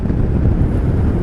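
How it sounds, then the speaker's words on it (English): Wind roars steadily and loudly across the microphone while riding over a big bridge above the Arakawa River, a dense low rumble with no voices. "windy, just a little bit hard to ride on the big bridge, Arakawa River"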